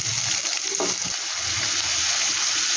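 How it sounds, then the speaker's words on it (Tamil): Chopped onions land in hot oil, giving a dense, steady sizzle with a soft clunk early on and no talking. "எண்ணெய் சூடானது பிறகும் கட் பண்ணி வச்சுக்கிற ஆனியனை போட்டுக்கலாம் ஃப்ரெண்ட்ஸ்."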